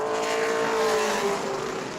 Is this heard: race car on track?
yes